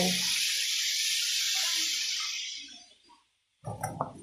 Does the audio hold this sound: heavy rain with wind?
no